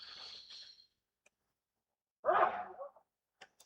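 One loud, close sneeze bursts out from the quiet of a county championship cricket broadcast, Hampshire against Yorkshire, followed by a brief breathy tail and a few faint clicks.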